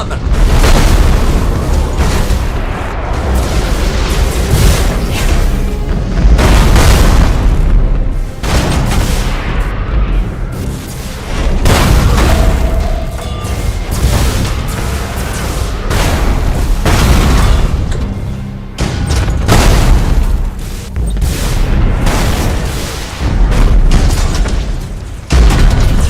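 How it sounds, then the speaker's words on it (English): Thunderhawk bombardment in the space strategy game Battlefleet Gothic Armada 2, a loud, continuous barrage of deep booming explosions and rumbling blasts that swells and dips for the whole stretch. "Initiate Thunderhawk bombardment."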